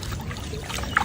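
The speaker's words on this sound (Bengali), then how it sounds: "এই তো পানি দিয়ে দিচ্ছে বাবা" Water is poured over someone bathing, giving a brief, steady splashing gush with a slight trickle at the end.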